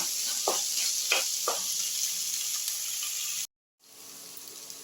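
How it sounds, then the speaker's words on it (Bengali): Masala with tomatoes fries in a pan with a continuous close sizzle and a few stirring scrapes early on, then a sudden brief silence before the sizzling resumes. "আমি ভালো করে মশলাটা আর একটু কষে নিচ্ছি"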